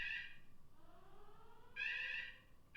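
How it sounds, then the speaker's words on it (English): A loud electronic alarm sounds in pulsing bursts of high beeping tones, stopping briefly and then blaring again, with no one talking over it. "oh, alarm."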